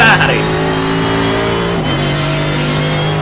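A Ferrari race car engine in the iRacing sim racing game at the Nürburgring screams at high revs, then its pitch drops sharply through gear changes and it settles into a steady, loud drone.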